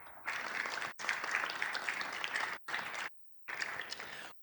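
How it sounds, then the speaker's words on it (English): An audience at a business resource forum applauds in loud, dense bursts of clapping, cut off abruptly by short silences between stretches, with no speech. "let's give Mavis Thompson a round of applause"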